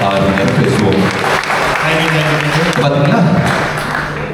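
An audience at a live stage event in Vellore bursts into loud, sustained applause that fills the whole stretch, with a voice talking over the clapping throughout.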